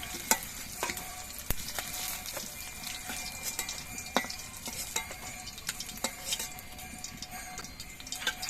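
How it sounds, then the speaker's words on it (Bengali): Pieces of catla fish fry steadily in hot oil, a dense continuous sizzle and crackle with scattered sharp pops, close and fairly loud, with no voices. "মাছের এই পিসটাও কিছুক্ষণ ভেজে নেব"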